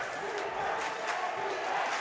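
A high school playoff basketball crowd in a gym roars and cheers steadily right after a basket, a dense wash of voices at full volume with no clear break.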